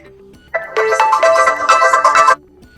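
An Oppo A78 phone plays its system alarm ringtone: a bright, synthetic electronic melody of repeated tonal pulses lasting about two seconds after a soft lead-in, loud and close, with no voices.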